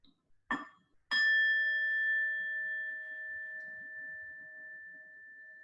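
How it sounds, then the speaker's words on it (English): A bell rings clearly, with a light tap followed by a strong strike whose pure, clear tone lingers and slowly fades over several seconds in a quiet room. "let's ring the bell for joy"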